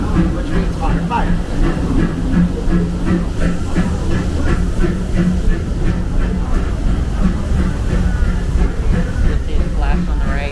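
Disneyland Railroad steam locomotive working uphill, a steady loud rumble and hiss with faint rhythmic clatter of the cars throughout, with people talking over it.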